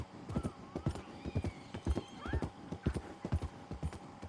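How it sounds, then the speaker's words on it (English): Rapid, rhythmic clip-clop of hooves with a horse whinnying over them in the video game Red Dead Redemption 2, close and moderately loud. "His horse is a little triggered at me, I think."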